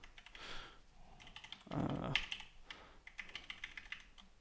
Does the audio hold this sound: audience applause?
no